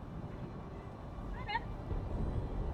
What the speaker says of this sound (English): Big meows.